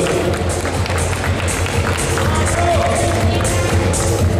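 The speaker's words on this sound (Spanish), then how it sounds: "Fuerte el aplauso." Crowd at a NABBA South America bodybuilding competition in Argentina applauds a senior-class finalist, a loud, continuous roar of clapping and cheering mixed with crowd babble, filling the hall.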